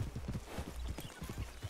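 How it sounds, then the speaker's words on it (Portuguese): Horse hooves clip-clop in the video game Red Dead RP, a quick, steady, soft patter of hoofbeats trotting nearby, heard alone at low volume. "Agora eu vejo um cavalo invisível do meu lado."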